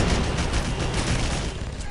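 Enemy soldiers fire continuously at a tank in the video game Red Faction 2, a dense, loud barrage of rapid gunshots that runs without pause and without talking.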